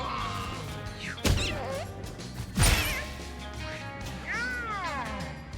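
A cartoonish cat meows in the Mewgenics video game, with a few sliding, wavering meows alongside two sharp whacking hits, loud and close in the game's soundscape.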